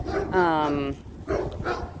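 Puppies give a high, drawn-out yelping bark followed by shorter yips close by, while a person talks over them.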